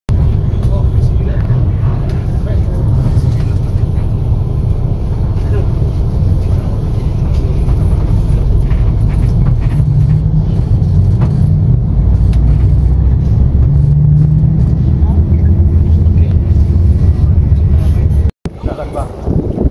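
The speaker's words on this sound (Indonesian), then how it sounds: "masuk ke bus menuju Mandalika" Steady low engine rumble and road noise inside a moving bus travelling to the Mandalika circuit for MotoGP 2023, continuous throughout with a brief dropout near the end.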